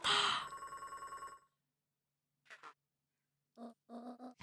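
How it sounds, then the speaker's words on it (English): A rotary phone rings close by in a rapid metallic bell trill lasting about a second and a half, then fades out. A few soft breathy vocal sounds follow in the quiet. "Is that a rotary phone?"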